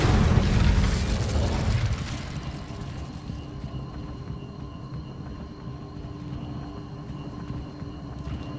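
The Incendio fire spell in Hogwarts Legacy gameplay sets off a loud whooshing burst of flame that fades over about two seconds into a low, steady crackling hum with faint tonal game ambience.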